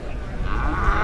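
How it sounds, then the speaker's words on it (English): A junior bull at an Irish cattle show lets out a deep, close, sustained moo that fills the short moment with low rumbling tone. "This is a bull, a junior bull."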